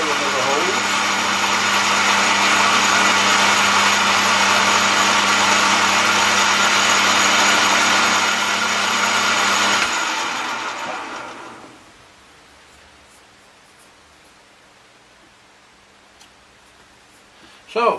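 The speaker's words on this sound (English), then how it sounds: "Job is going to be done on the mill, the drilling of the holes." A milling machine drilling holes for a diesel engine build makes a loud, steady whine with a mechanical drone for about ten seconds, then spins down and fades into quiet room tone.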